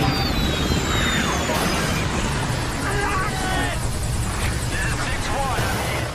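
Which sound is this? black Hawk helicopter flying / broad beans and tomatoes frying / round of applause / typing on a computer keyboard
black Hawk helicopter flying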